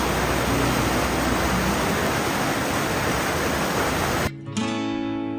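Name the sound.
flowing water in a canyon stream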